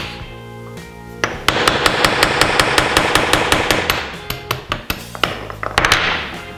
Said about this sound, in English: take a little punch and go right on the stem like this